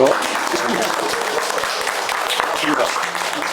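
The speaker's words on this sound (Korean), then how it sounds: "마지막 시간 열렬한 박수로 시작하겠습니다." An audience at a peace-sensitivity forum run by Setnet School claps enthusiastically to open the final session, a loud, continuous spread of applause with a voice mixed in underneath.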